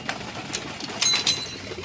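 Pigeons coo softly at a pigeon loft during feeding, a steady low murmur of calls with a few brighter chirps and rustles, fairly close, with no talking.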